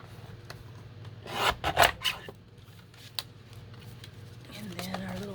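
White paper edges of journal pages being trimmed, a few close rasping cuts bunched together in the middle, with soft rustling before and after and a brief voice near the end.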